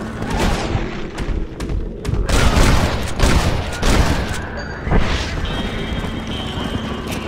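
Gunfire in Red Dead Redemption, a string of booming shots in uneven bursts mixed with thuds and hoofbeat-like clatter, fading into quieter ambience with a steady tone near the end.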